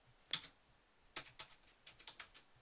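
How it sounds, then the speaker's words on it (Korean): Typing on a computer keyboard: a few sharp, separate key clicks at an irregular pace, close and quiet, with no talking. "제가 한번 타이핑을 한번 해볼게요"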